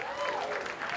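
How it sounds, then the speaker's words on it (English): An audience at a startup event claps in a brief, dense burst of applause, with a voice heard over it. "Let's give them a round of applause"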